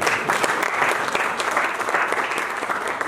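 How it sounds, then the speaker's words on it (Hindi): Loud, dense applause from a conference audience at a regional business conclave in Kasauli, a continuous wash of many hands clapping together for the full few seconds with a faint crowd murmur beneath. "एक बार बनिया उसके लिए जोरदार तालियां यार।"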